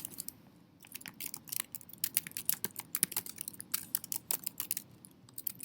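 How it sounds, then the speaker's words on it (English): Rapid, irregular keystrokes on a computer keyboard while entering a degree into a teacher website form, close and crisp, with no talk over them. "So I'm going to type in here, I have a Bachelor's of Science in Secondary Education."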